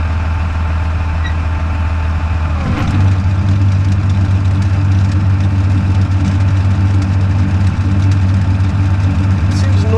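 A tractor-driven gearbox spins up on newly installed bearings for its first run, the engine idling as a steady low drone that jumps louder partway through when the drive is engaged and keeps running noisily to the end.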